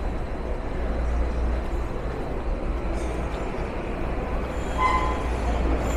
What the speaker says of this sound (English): there's goes one of the expo line trains pulling in right now.